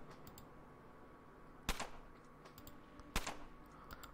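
Two sharp, isolated shots from the turn-based post-apocalyptic RPG UnderRail ring out about a second and a half apart, crisp and moderately loud over a faint steady background hum, with no talking.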